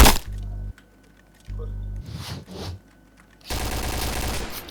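A P90 submachine gun fires in an online shooter clan match: two sharp rapid bursts, then a few scattered shots, then a dense sustained volley at the end, all loud and close.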